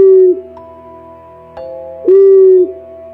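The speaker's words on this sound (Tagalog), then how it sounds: "ang pinakamahalaga sa kanya ay ang alaga niyang kwago na si Luna." An owl hoots in two clear, loud, drawn-out calls separated by a short pause, set alone against silence as an eerie horror-story effect.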